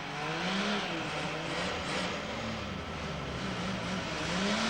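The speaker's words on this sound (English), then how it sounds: "this once familiar sound of a Holden 6 warming up is rapidly becoming a thing of the past" A Holden six-cylinder engine warms up on a car factory test line, a steady rough rumble running continuously without pause at moderate level.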